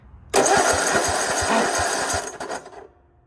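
Cub Cadet RZT50 zero-turn mower engine cranking over with the throttle wide open during a compression test, a steady rhythmic churn of starter and compression pulses that runs loud for about two seconds, then sputters briefly and stops.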